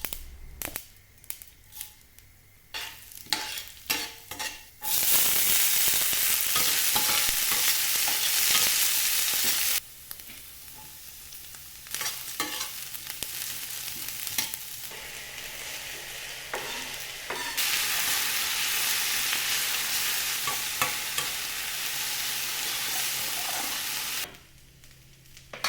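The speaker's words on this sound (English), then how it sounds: "With a tablespoon of oil in a pan, I add in mustard seeds, a teaspoon of chana dal and urad dal, beans and onion, and then I add in the methi leaves." Mustard seeds, chana dal, urad dal, beans, onion and methi leaves frying in a tablespoon of oil in a pan, with loud sustained sizzling broken by stirring clatter and brief quieter gaps, close up.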